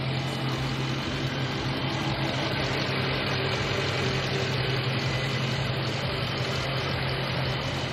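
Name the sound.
car engine idling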